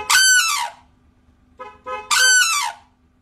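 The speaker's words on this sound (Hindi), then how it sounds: "देखिए मैं अपनी गाड़ी का हॉर्न बजा रहा हूँ कैसे बोल रहा है।" A car horn sounds twice, two loud blasts roughly two seconds apart, with a few fainter chirps in between, near and clear without talk.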